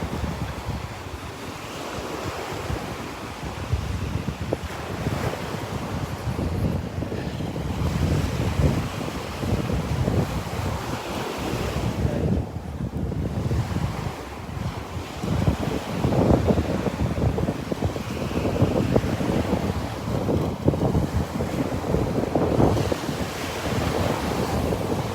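Steady wind gusting across a microphone mixes with surf rolling onto a sandy Gulf beach at Delnor-Wiggins, a continuous broadband roar with swells of louder breaking waves throughout and no voices.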